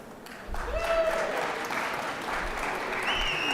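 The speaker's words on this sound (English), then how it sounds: "let us applaud you for your triumphant season" Applause in a state legislative chamber for basketball state champions standing in the gallery, a broad sustained wash of clapping that swells after a moment and holds steady, fairly loud and diffuse, with faint tonal sounds above.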